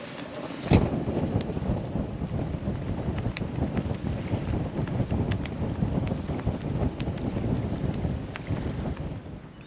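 Steady wind gusts buffet a boat riding at anchor on a mooring ball in Chance Bay, Marlborough Sounds, New Zealand, a constant roaring rumble with microphone buffeting and occasional rattles and knocks, no voices.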